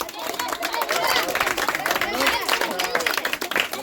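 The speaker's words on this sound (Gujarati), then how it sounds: "તાળીઓ મારો ભાઈ" A village crowd at a laddoo eating contest claps in quick, dense bursts, mixed with shouting and chatter throughout.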